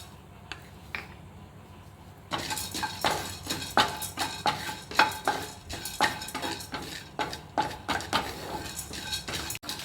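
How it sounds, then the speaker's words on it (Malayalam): Split chickpeas (pottukadala) are roasted in a pan, giving a quiet start and then a steady run of sharp clinks and scrapes as they are stirred and tossed, close and fairly loud, with no voices. "അതേ സെയിം പാനിൽ തന്നെ ഞാനൊരു 30 ml പൊട്ടുകടല എടുത്തിട്ടുണ്ട്. അത് ഇതിനകത്ത് തന്നെ മൂപ്പിച്ചെടുക്കാം."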